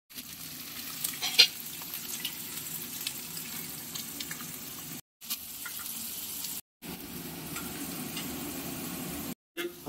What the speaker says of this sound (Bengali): সুন্দর করে গাজরগুলো কিন্তু ভাজা হয়ে গেছে